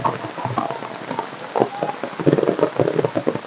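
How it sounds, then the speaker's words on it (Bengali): Heavy rain pours onto surfaces in a village, a dense, steady patter with irregular louder splashes and drips, loud and close with no voices. "আমাদের এখানে প্রচুর বৃষ্টি হইতেছে"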